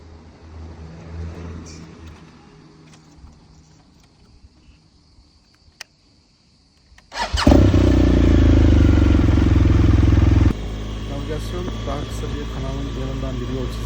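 A motorcycle ridden on a loaded tour around Fethiye starts as faint background rumble, then its engine roars up loudly and holds a steady, heavy drone before easing back to a lower, continuous hum.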